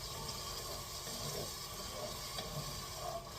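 Wine boiling down in a pot on high heat while cooking cream of chicken and rice gives a steady, loud sizzling hiss that stays continuous throughout, with no voices.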